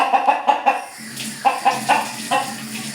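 Rooster held by the chest and wetted with water during grooming, clucking in short bursts of four or five calls, close and clear over faint splashing.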